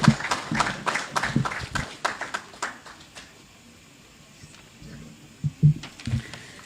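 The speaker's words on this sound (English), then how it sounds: "Another round of applause for Dr. Levi Zelezamanda." A gala dinner and awards ceremony audience claps in a brisk burst that thins out and fades, followed by a few scattered, isolated claps and quieter room noise.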